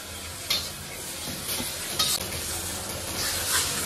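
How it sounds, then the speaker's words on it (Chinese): Fried eggplant hits a hot wok over high heat, raising a steady loud sizzle with periodic scraping stirs and clanks of the spatula against the metal. "调成大火，把炸好的茄子下到锅里"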